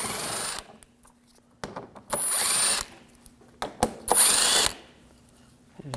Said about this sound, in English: Now we're using a 8mm socket.